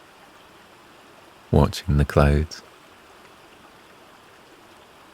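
Flowing water near a waterfall makes a soft, constant broadband rush beneath a short spoken phrase from a narrator partway through.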